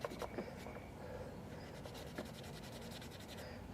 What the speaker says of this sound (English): It's got a bit of rust on it. Try to polish that up a little bit.